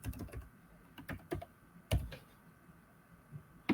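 A password is tapped out on a computer keyboard in a handful of sparse, quiet keystrokes with short pauses between them, close up in a hushed room.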